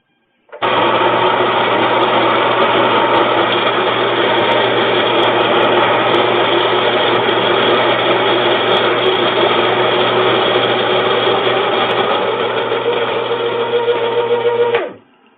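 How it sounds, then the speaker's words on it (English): A Baratza Virtuoso burr coffee grinder grinds beans for a V60 pour-over, a loud, steady motorized whir that runs unbroken for about fourteen seconds, then stops. "I'm going to do 9 grind today on this V60 with Barazza Virtuoso"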